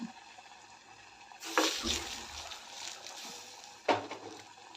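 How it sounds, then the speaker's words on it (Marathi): Water is poured into a pressure cooker holding cooked, tempered mung beans, giving two short splashing bursts with a quieter trickle between them. "त्यानंतर त्यामध्ये थोडंसं पाणी घालून"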